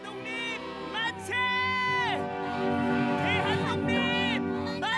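A large crowd re-enacting the March 1919 Korean independence movement raises a loud, massed chorus of shouted cheers. The voices come in swelling waves and sound close and dense.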